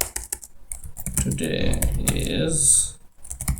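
Typing on a computer keyboard, a few quick close key clicks at the start and end with a voice talking in between.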